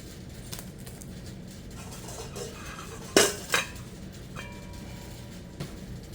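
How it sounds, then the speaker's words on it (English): Dry cake ingredients for an eggless cake being mixed in a bowl, with soft scraping and a couple of sharp utensil clinks against the bowl midway, close and fairly quiet, no talking. "we're gonna mix up our dry ingredients."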